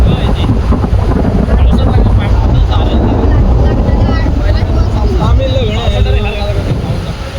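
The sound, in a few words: heavy rain and wind at an outdoor wedding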